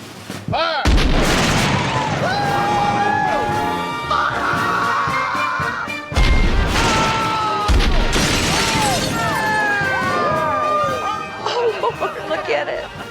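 Cannons firing at a house during a home demolition, heavy booms with shattering debris, whistling effects and a music bed under excited crowd voices.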